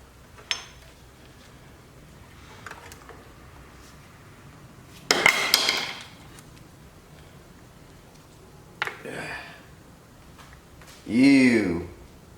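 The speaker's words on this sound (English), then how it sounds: "So let's pull the valley pan off too." The valley pan comes off a Pontiac Trans Am Turbo 301 engine with a few separate metallic clanks and scrapes, close, between stretches of quiet, and someone speaks at times.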